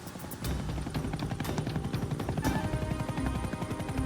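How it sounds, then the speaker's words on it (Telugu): A helicopter drones steadily with rapid rotor thumping, loud and close, mixed with dense rumbling noise throughout. "ఆ జాన్ బాస్ చెంకు కూడా హెలికాప్టర్లో మన వెనకాలే ఉన్నాడు."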